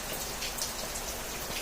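Steady rain pours outdoors, a dense, even hiss of drops striking surfaces that holds at a constant level from start to finish with no voices.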